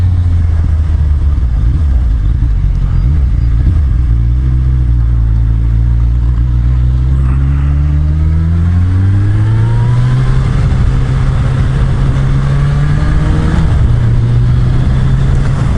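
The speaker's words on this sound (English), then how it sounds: "there's a car now" A car engine on a road in winter conditions, heard from a motorcycle, drones steadily and loudly, with its pitch rising and then falling as the car approaches and passes close by.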